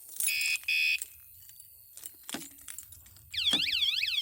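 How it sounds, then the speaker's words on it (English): Anti-theft alarm on a Bigniu Mini BGX electric bike: two short steady beeps, then a few faint clicks, then a loud warbling siren sweeping up and down at the end, close by and with no talk. "Got an alarm on it."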